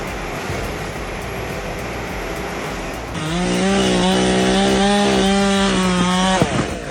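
A big chainsaw cutting a tree runs loud and close, first as a steady rough noise and then as a sustained high whine under load for several seconds before it cuts off.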